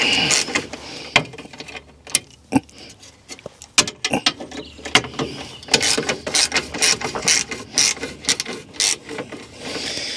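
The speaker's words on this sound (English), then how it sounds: "they are actually a 14mm bolt as well, so you can just use a ratchet like this" A ratchet undoes 14mm bolts holding the kidney grilles on a BMW 330d, making close, continuous bursts of rapid clicking with short pauses and the odd metallic knock.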